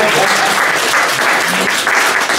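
An audience at a talk on VK advertising breaks into dense, loud applause for the speaker, sustained throughout with no pause.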